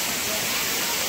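Waterfall at Ajodhya Pahar with only a modest flow, water dropping from above in a dense, steady rushing roar, loud and close with no break.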